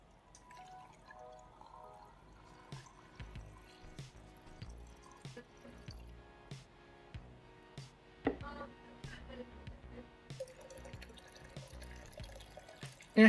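Water runs and drips in a sink during the final rinse of developed film, with scattered splashes and small knocks over a steady low trickle, fairly close and moderate in level.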